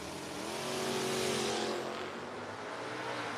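Drag racing cars, a 79 Mustang and a 72 Nova, roar off the line at a drag strip, a broad engine blast swelling and then fading slightly as they pull away, heard from a distance.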